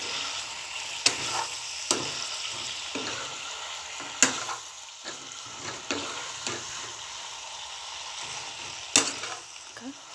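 Chicken meat fries in a pan with turmeric added, giving a steady close sizzle broken by several sharp scrapes and clanks of stirring at irregular intervals.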